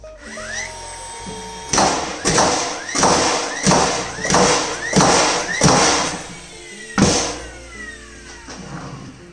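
A DeWalt framing nailer fires in burst mode into fir lumber: about seven loud, sharp, close-up shots in quick succession, each a heavy percussive bang with a brief mechanical whir, and a final shot after a short pause.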